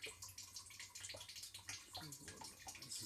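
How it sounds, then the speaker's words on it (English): Water from an RODI system splashing and flowing steadily into a 90 gallon saltwater aquarium, a continuous bright pouring sound up close with uneven gurgles. "They got a nice flow. And you see the water's going in."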